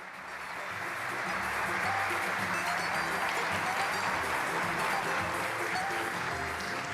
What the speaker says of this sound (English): So with a round of applause, the students.